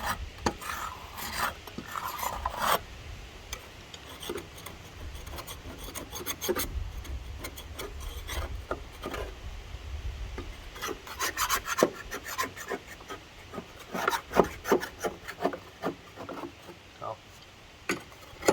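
A Ballard scraper rasps against the underside of a Masport Rotarola mower deck, making repeated gritty scraping strokes and sharp scratchy bursts in an irregular rhythm, close by with faint background noise.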